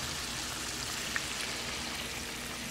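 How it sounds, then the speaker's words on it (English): Heavy rain falling outside during a downpour, a steady dense hiss of drops on surfaces holding evenly throughout, fairly quiet, with no voices. "We're getting a lot of rain here."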